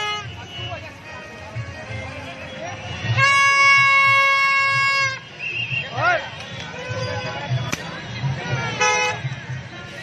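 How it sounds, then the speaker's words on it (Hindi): A loud, sustained horn blast sounds for about two seconds, followed by shorter toots, amid crowd noise and people talking. "इनसे आपस में ही एक दूसरे के कान में भोंपू बजवाया।"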